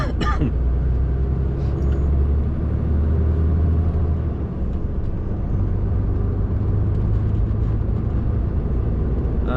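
A heavy lorry carrying 24 pallets drives along a road, with a loud, steady low engine rumble and road noise filling the cab throughout.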